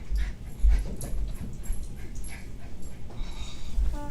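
Dogs whimper and yip close by, with soft panting and a few high whines, under a steady background hum.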